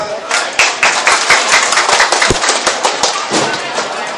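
Dense, loud applause from a party audience after a speech, rapid overlapping claps with sharp peaks filling the whole stretch, with some voices mixed in.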